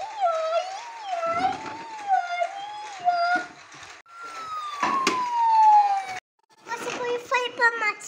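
A young child vocally imitates a wailing siren, producing close, rising and falling howls repeated several times with brief breaks between them.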